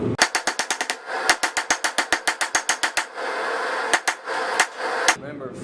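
Rapid, ringing hammer blows on hot 5160 coil spring steel as a slot punch is forged on an anvil: a quick run of about twenty evenly spaced strikes, a short pause, then a few slower hits.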